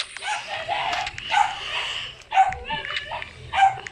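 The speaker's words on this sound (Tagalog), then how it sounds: "yung aso ko ang ingay!" A pet dog barks in several short, sharp yips close by, with a voice talking between and over the barks.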